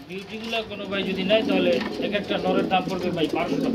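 Pigeons coo steadily at a pigeon sale where fifty pairs are sold with eggs and chicks, the soft rolling calls overlapping throughout under ongoing talk from people nearby.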